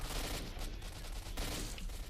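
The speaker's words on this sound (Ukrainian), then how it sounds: "Чути, там хлопчики вже стріляють" Distant gunfire crackles in a loose volley, several sharp shots popping irregularly over a muffled, noisy background, in the video game S.T.A.L.K.E.R.: Shadow of Chernobyl.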